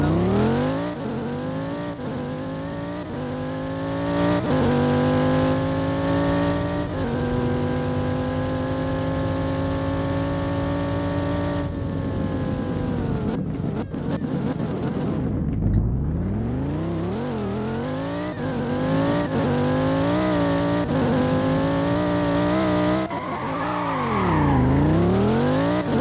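Lamborghini Huracan STO in a Roblox game, its engine revving hard through rising and falling gear sweeps, a steady loud drone with a brief lift-off dip mid-way before climbing again, no talk.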